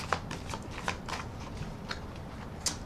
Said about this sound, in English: I want to go ahead and do some more shuffling